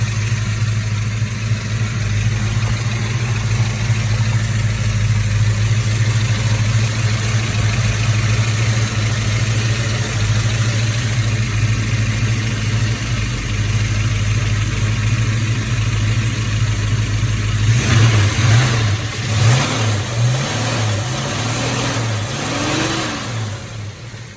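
A 1969 Plymouth Road Runner B-body engine idles with a loud, steady low rumble, then gets several rising and falling revs near the end, recorded up close.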